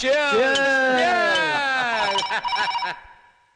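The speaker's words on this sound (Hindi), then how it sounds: "जरा देख तो बब्बर, किसका फोन है?" A telephone rings with a bright, warbling electronic tone that repeats for a few seconds, up close, then stops.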